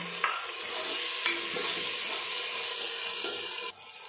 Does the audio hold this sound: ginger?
yes